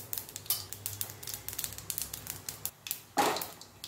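Mustard seeds and cumin crackling in hot oil for tomato upma, a dense run of sharp pops and sizzling spits close by, with a louder burst of spattering near the end.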